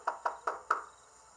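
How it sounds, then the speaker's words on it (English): Four firm knocks on a building's front door ring out in a quick, even rhythm, close and moderately loud, followed by quiet. "so I just knocked really hard"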